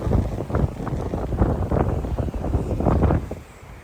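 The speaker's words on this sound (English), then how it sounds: "can probably even hear the wind blowing through all the trees here" Strong mountain wind gusts through the trees of a hillside cemetery near Fillmore, California, a loud continuous roar with buffeting on the microphone that swells and eases over a few seconds.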